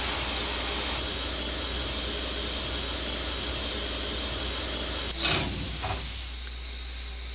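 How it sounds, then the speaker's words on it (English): Steady broadband hiss of a steam locomotive injector feeding water to the boiler in the Trainz simulator, continuous and loud over a low rumble, with a brief clunk near the end. "we open this, what that does is allows the steam draft to begin pumping water into the boiler"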